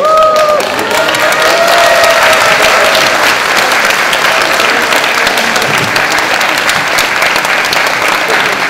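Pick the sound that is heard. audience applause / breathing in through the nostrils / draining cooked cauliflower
audience applause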